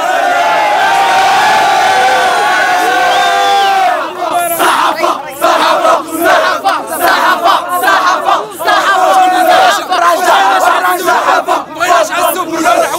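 Raja football supporters in Sidi Slimane chant and sing together, loud and close. A sustained unison melody opens, then it breaks into rhythmic shouted chants with claps and whoops.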